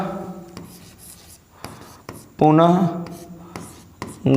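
Pen scratches across paper in short, uneven strokes while a physics lesson on electric charge is worked out by hand, with a voice briefly speaking between the strokes.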